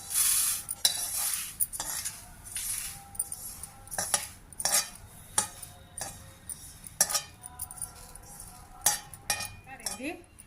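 Lentils and sesame seeds dry-roasting in a pan while being stirred, with irregular scraping and clinking of a spoon against metal, close and fairly quiet, with no voices.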